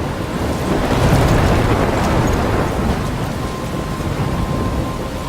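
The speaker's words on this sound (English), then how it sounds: "I'm trapped in a storm?" A thunderstorm in the Life is Strange video game roars as heavy, continuous rain and deep rolling thunder, loud and close throughout with no break and no talking.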